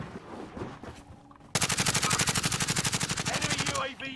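Rapid automatic gunfire from a multiplayer shooter video game erupts loud and close, a steady burst of about two and a half seconds after some quieter game noise and background voices.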